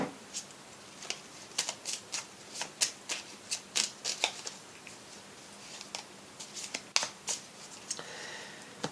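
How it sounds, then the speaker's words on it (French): Oracle cards being shuffled and drawn from a small deck: a run of crisp, close riffling flicks and snaps in quick bursts, moderately loud, with no talking. "je vais prendre une carte du petit oracle des heures miroirs"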